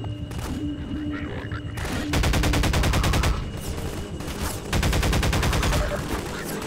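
Rapid automatic gunfire in the game Half-Life 2 rattles out in two long, loud bursts separated by shorter pops and pauses, close and harsh.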